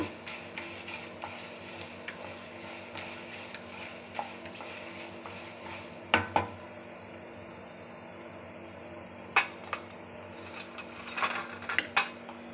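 Ginger, curry leaves and sesame seeds being sautéed in a pan for a tamarind thokku, heard as quiet, steady scraping with scattered metallic clinks of a spatula against the pan.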